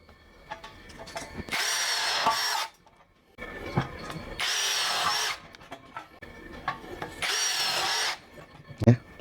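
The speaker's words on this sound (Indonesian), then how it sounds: "Kita menggunakan variabel speed 2 atau high dan mode drilling." A KEELAT 3-in-1 impact drill drills at high speed in drilling mode, running in three loud bursts of a couple of seconds each with short pauses and small clicks between them.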